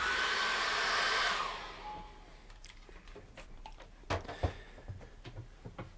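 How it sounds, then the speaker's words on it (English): Hair dryer blowing steadily up close while acrylic paint dries, a loud rushing hiss that cuts off after about a second and a half, leaving faint clicks and taps. "we're going to dry that off with a hairdryer"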